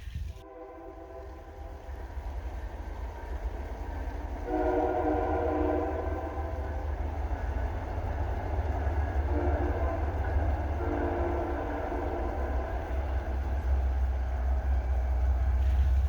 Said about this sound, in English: Minus the train that keeps passing by every once in a while.